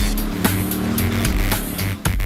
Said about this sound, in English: this Scorpion tears up the track with a hydrogen internal combustion system